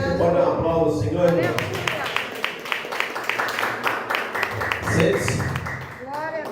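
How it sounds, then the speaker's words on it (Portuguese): Applause from a church congregation, brisk clapping heard alongside singing and voices, rising between stretches of talk before settling. "Pode dar um aplauso, Senhor?"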